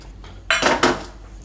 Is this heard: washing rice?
yes